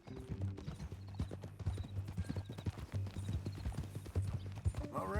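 Horse hooves clip-clopping steadily in Red Dead Redemption 2, a mean-looking new horse walking along in a regular, close rhythm, with an occasional snort or whinny near the end.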